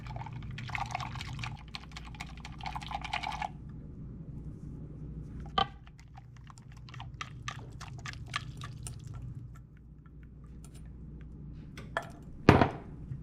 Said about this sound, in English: We're going to add our third cup of milk.